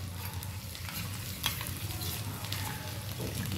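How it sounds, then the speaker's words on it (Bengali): Chilli chicken gravy mixed in a pan after water goes in, a soft continuous bubbling sizzle with faint stirring scrapes and one clear clink, fairly quiet and close. "জল অ্যাড করে এটাকে কিন্তু খুব ভালো করে মিশিয়ে নেব"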